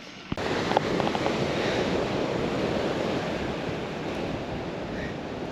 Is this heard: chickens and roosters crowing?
no